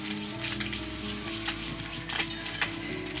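Panch phoron and dried red chilies sizzle steadily in hot oil for a Bengali dish with tamarind, a continuous close crackle with a few louder spitting bursts and a low hum underneath.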